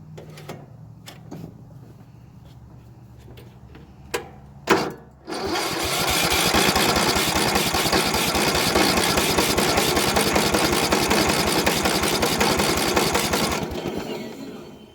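An abandoned Bolens riding mower awaiting a new carburetor gives a few sharp clicks and a short stuttering try, then catches and runs with a loud, steady, rapid engine drone for about eight seconds before it dies down.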